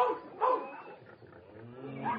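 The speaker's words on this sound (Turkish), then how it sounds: "Köpek yoldaşlar, neden düşmanca havlıyorsunuz?" Dogs barking in a Turkish audiobook of Orwell's Animal Farm, a few short yaps and bark bursts at moderate distance mixed into a dramatized farm scene with voices.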